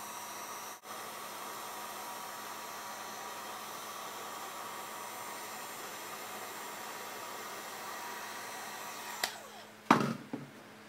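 Heat gun blowing a steady, even airy roar onto the glass digitizer of an iPad 2 during repair, continuous for several seconds before a few clunks and a brief burst of handling noise near the end.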